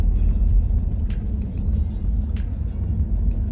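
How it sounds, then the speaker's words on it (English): Lifted Subaru Legacy pulling away in a parking lot, a steady close engine rumble with low road noise that stays even throughout, with no talk. "Okay, so let's take this thing for a drive now."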